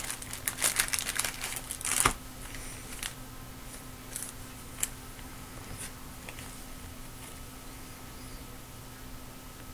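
A plastic sleeve for a 2017 Certified Cuts football trading card crinkles and rustles as it is handled, with a flurry of close crackles early on, then sparse, faint ticks over a quiet background hum.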